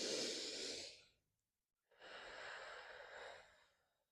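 Two deep, close breaths taken during a stretching exercise: a long airy breath, a pause of near silence, then a second long, slightly softer breath that trails away.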